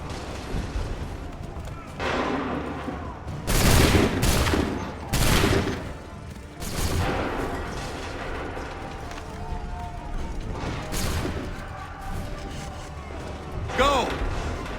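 Musket volleys crack out in the Assassin's Creed 3 Remastered video game, several loud ragged bursts of gunfire spread across the scene amid shouted commands and battlefield noise.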